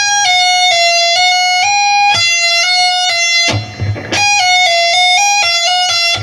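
An electric guitar plays a slow legato lick of hammer-ons and pull-offs, clear sustained notes stepping up and down in an even rhythm, with a brief noisy scrape midway before the phrase repeats.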